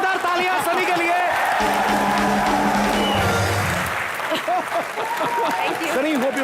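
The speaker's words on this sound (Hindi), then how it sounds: "एक बार जोरदार तालियां" Studio audience applause and cheering on an Indian comedy talk show, a dense sustained wash of clapping and crowd noise with whoops, with voices and a brief musical sting over it.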